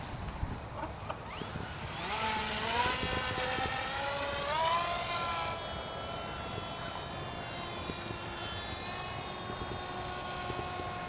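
An Arduino-controlled model plane's electric propeller motor drones steadily in flight, its whining tone rising and wavering in pitch, then settling into a constant buzz over open-air background noise.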